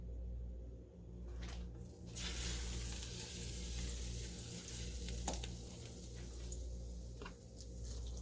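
Swai fish fillets frying in a pan, a steady broad sizzle up close with occasional sharper crackles and brief stirring or shifting noises, no one speaking.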